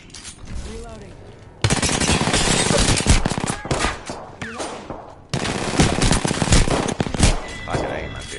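Dense bursts of automatic gunfire in a sci-fi shooter video game, rapid loud volleys with short gaps, voices talking over the shooting.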